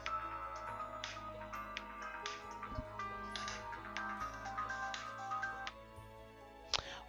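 A mobile phone ringtone plays in the Sims 4 game, a bright, repeating electronic melody heard close and clear, with a short sharp click near the end.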